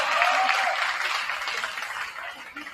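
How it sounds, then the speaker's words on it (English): A crowd at a high school varsity basketball banquet applauds steadily for the district-champion team, with a dense, even wash of clapping that slowly tapers, plus a few faint voices mixed in. "Give them a big round of applause"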